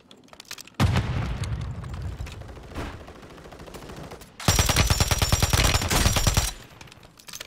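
Video game battle-royale combat with a Semtex grenade blast and gunfire: a loud sustained burst of explosive rumble and shots, then a second, brighter stretch of rapid automatic fire before it cuts off.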